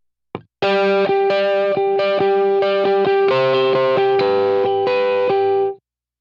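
An electric rhythm guitar played through effects with the delay switched off strums a crisp, rhythmic pattern of distorted chords for several seconds, then stops cleanly. No one talks over the playing.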